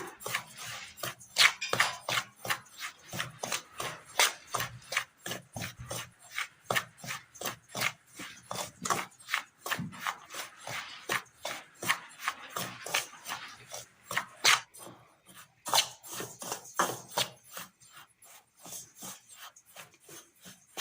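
Dry semolina (rava) is roasted and stirred in a pan on the stove, giving close, steady scraping and rasping strokes in a quick uneven rhythm, with no talking.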